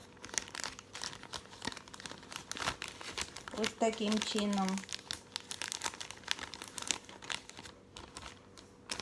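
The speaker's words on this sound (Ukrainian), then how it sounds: "Ось так ставлю цей стаканчик в пакет." Continuous crinkling and rustling of a plastic bag close by as a plant cutting's cup is placed inside, with a brief spoken remark partway through.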